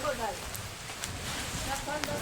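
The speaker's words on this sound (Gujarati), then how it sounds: "ફૂલ વરસાદ આવી ગયો ફૂલ વરસાદ ચાલુ" Heavy rain pattering on surfaces during a sudden storm, a steady close wash of drops, with voices talking over it and a few brief sharp taps.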